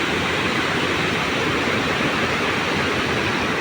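River water flows in a constant, even rush, close and fairly loud, with no voices over it.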